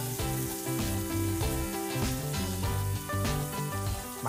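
A sofrito of tender garlic sizzles and crackles steadily in a hot pan, with soft clinks of stirring and no voices.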